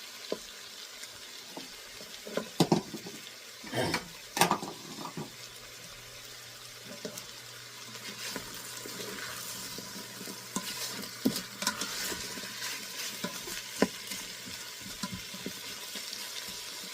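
Vegetable soup ingredients, including vegetables with their peels, cook in a pot with a steady low bubbling and sizzle, broken by occasional clinks and scrapes of a spoon stirring.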